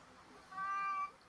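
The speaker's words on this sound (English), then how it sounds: "have you seen the cat Paul, little white and black?" A single short, faint meow comes from a small white-and-black cat indoors, lasting about half a second against quiet room noise.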